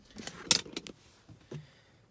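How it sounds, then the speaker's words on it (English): The driver's door of a 2022 Acura MDX shuts with a sharp close thump, set among a few lighter rattles and clicks and a second dull knock, all fairly quiet and close. "I'll close the door."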